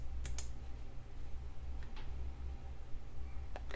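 A few quiet computer keyboard keystrokes on a Windows 10 PC, scattered clicks in two small bursts near the start and end over a low steady room hum, no talking.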